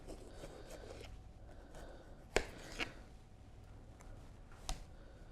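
Knife slicing a red pepper on a small chopping board: a few sharp, separate knocks against the board stand out over a quiet kitchen background.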